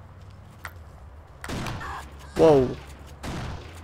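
Gunfire bursts from the video game Kane and Lynch: Dead Men, a rattling volley around the middle of the stretch with scattered thuds, mixed under people talking.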